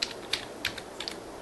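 Someone types on a computer keyboard to search in Windows 8, producing four or five crisp, irregularly spaced key clicks at close range over a faint background hiss.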